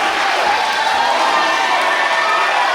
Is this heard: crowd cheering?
yes